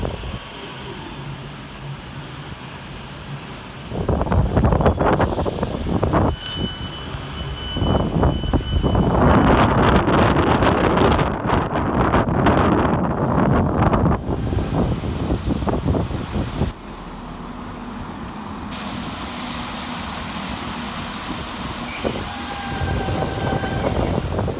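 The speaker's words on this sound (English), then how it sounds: "Passing fast through the middle, 5 minutes late, is 390-119, working 1 mike 10 for Avanti West Coast" An Avanti West Coast Class 390 train passes fast through the middle of Crewe station, a loud rushing roar with rattling wheel noise building quickly, peaking for several seconds, then fading into station ambience.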